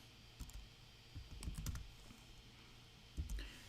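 A few quick bursts of computer keyboard typing as a command is entered in drafting software, soft clustered key clicks near the mic with short pauses between groups.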